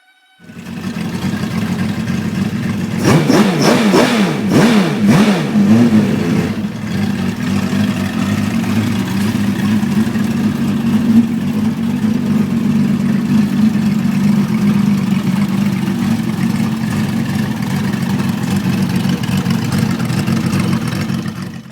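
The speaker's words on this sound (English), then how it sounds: "here I am testing the oil flow to the camshafts when I was making the engine." A homemade 2300cc Kawasaki V12 runs during an oil flow test, with a quick series of sharp rev bursts early on before settling into a loud, steady, close engine drone that continues to the end.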